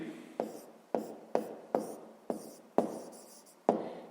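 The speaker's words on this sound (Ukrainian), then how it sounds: "Пишемо тоді." A pen writes on paper during a fifth-grade math exercise: quiet, close scratching strokes in short bursts, each starting with a small tap, about seven in a row.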